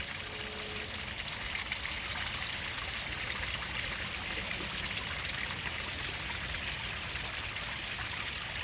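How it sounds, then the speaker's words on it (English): Water flows and trickles continuously in an outdoor koi pond with melting ice, a steady close wash of moving water with no other sounds. "so we'll get the water moving again"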